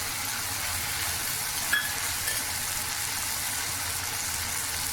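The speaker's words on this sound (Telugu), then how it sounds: "ఇప్పుడు దోసకాయ టమాటా కొంచెం వేగింది కదండి" Ridge cucumber and tomato frying in a pan for a chutney, a steady close hiss and sizzle throughout with one faint clink of a utensil, no talking.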